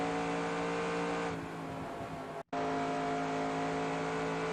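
Stock car engine in NASCAR Racing 2002 on the Texas Motor Speedway front stretch, a loud steady high-speed drone with harmonic whine that dips briefly, cuts out for an instant, then returns at full roar.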